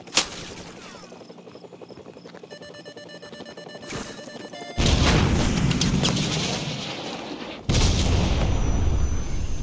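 A Stinger missile is fired in a military shooter video game, with a beeping lock-on tone, then a sudden loud roaring launch that fades. A second heavy blast follows near the end.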